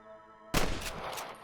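Gunfire in the Red Dead Redemption video game during a shootout at Pike's Basin: silence broken by a sudden loud shot, then a few more rapid cracking shots echoing, close and sharp, no talk.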